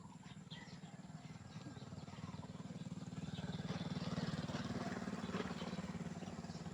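A distant motorcycle engine drones steadily, swelling slightly louder midway, with faint chirps and outdoor ambience around it.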